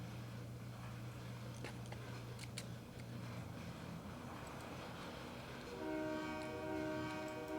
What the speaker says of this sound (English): All I want to do is really just get this train in there so that the other train can pass.